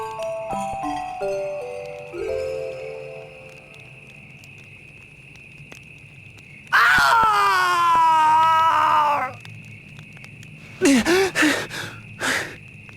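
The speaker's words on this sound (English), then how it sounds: "A scream!" A scream in the video game Bravely Second: End Layer: a loud, wavering high cry lasting a couple of seconds, then several short sharp cries, set over game music and a steady electronic drone.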